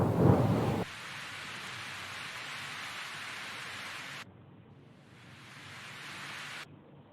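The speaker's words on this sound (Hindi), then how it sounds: "बारिश बहुत तेज हो रही है" Heavy rain pours in a steady, dense hiss after a loud rumbling burst at the start; the downpour cuts abruptly in level twice.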